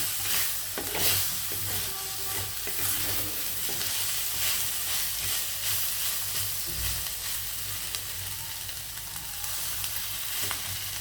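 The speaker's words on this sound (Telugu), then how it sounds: "ఇవి పచ్చి ముక్కలు, ఇది ఇలాగ వేయించాలి." Raw vegetable pieces for mint rice frying in a pan give a loud, continuous close sizzle with scraping stir sounds throughout, no voices.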